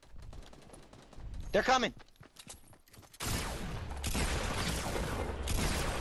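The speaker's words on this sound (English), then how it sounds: "They're shooting at me." Gunfire in the video game Fortnite, a burst of dense rapid shots coming in after a brief spoken line and a quieter stretch, then continuing loud to the end.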